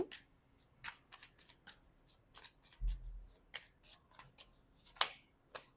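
Tarot cards being shuffled by hand: a run of quick, crisp riffling flicks and soft slaps in an irregular rhythm, close and fairly quiet, with one dull thump midway and no talking.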